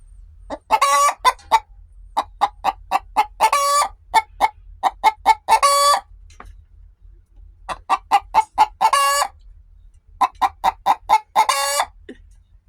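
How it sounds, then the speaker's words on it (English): Chickens cluck in quick rhythmic bursts, punctuated by several loud rooster crows, all close and clear with short silences between phrases. "She's very distracted with all the clucking."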